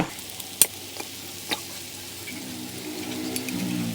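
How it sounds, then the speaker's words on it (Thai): Instant noodles with vegetables are stir-fried in a pan, giving a soft continuous sizzle with a few sharp clinks and scrapes of a utensil. "ผัดต่อไปให้ผักสุก"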